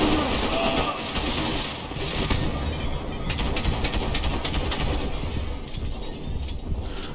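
Rapid gunfire in the video game Max Payne 3, a dense continuous rattle of shots with mechanical clatter, loud and sustained for several seconds.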